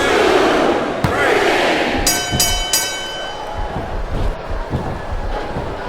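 A large arena crowd in the video game WWE SmackDown vs. Raw 2007 roars and cheers continuously during a wrestling match, with a few sharp impacts and a metallic ringing tone cutting through the din.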